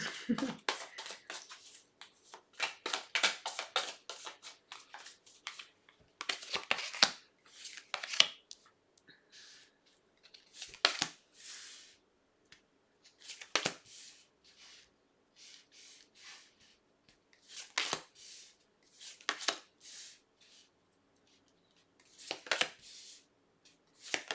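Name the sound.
shuffling a slippery deck of tarot cards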